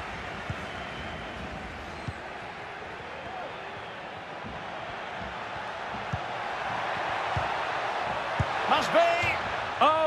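A stadium crowd in a FIFA 22 football match keeps up a steady roar that swells toward the end, with whistles and shouts rising out of the noise.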